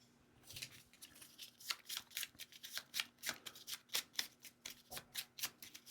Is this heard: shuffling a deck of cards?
yes